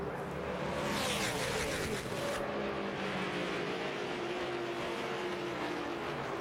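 NASCAR Nationwide Series stock cars racing under green flag at Daytona in the Drive4COPD 300, a loud, continuous roar of engines passing by with a swelling surge early on, then a steady dense engine drone.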